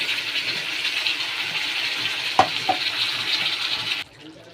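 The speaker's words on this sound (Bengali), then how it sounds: "আলুগুলো একটু লাল লাল করে ভেজে নিই, লাল করে ভেজে নিয়েছি। এবার পোস্তটা দিয়ে দেবো এর মধ্যে।" Diced potatoes frying steadily in a pan with poppy seeds, a continuous close sizzle with two sharp utensil knocks near the middle before the sound cuts off abruptly.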